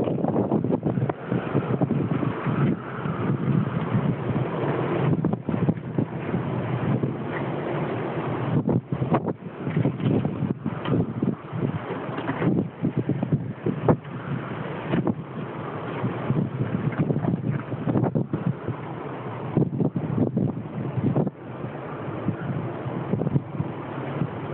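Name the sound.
strong wind blowing outside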